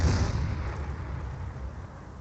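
A heavy rumbling explosion from artillery impacts in the Arma 3 video game, with the low boom strongest at the onset and then rolling on as a sustained, fading roar with no voices.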